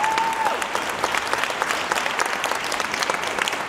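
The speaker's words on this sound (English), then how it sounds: "Please, big round of applause for the admin team." A school winter jazz concert audience claps for the admin team, a dense burst of applause from a large crowd lasting a few seconds.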